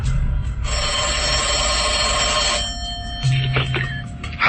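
A telephone rings in a radio drama, a loud, close electronic ring repeating in steady bursts on its own for a few seconds.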